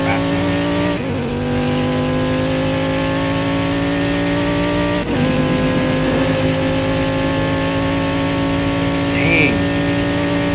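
A turbocharged car accelerating in a Roblox driving game set in Southwest Florida, with a steady, loud engine drone whose rising harmonic tones climb across the clip, interrupted by brief gear-shift dips, alone without speech.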